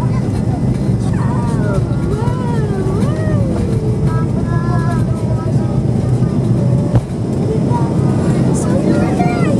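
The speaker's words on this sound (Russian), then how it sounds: "Да, разгоняется самолет," A passenger airplane speeds down the runway and lifts off, its engines giving a loud, steady roar heard from inside the cabin, with a voice talking over it throughout.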